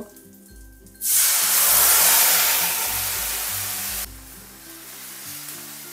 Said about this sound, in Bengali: এবার হাই ফ্লেমে মশলাটাকে খুব ভালো করে কষিয়ে নেব।